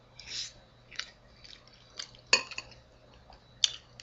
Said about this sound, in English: You will get to witness my first taste ever of Bachelor Stew.